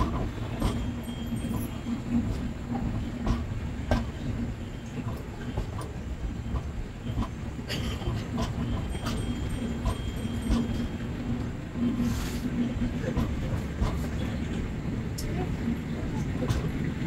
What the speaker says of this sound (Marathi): गाडी आता भिवंडी स्टेशनला पोचली आहे. तर हळूहळू भिवंडी स्टेशन ही स्किप करते आहे.